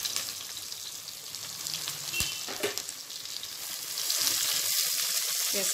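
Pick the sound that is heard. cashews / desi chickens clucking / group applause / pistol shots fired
cashews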